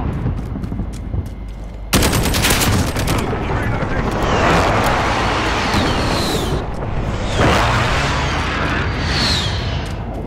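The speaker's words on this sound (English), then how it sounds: "friendly precision airstrike inbound" A friendly precision airstrike in Call of Duty Modern Warfare: heavy bursts of gunfire and booming impacts roll in from about two seconds and continue densely through the rest of the clip, with game voices mixed in.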